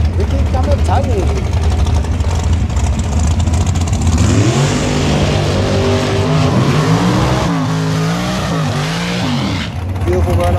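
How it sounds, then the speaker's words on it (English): Gas dragsters in bracket racing at Maui Raceway Park launch and roar down the drag strip, loud engines revving and sweeping in pitch, with a crowd-like wash of noise and a commentator's voice underneath. "Beautiful run off by both dragsters."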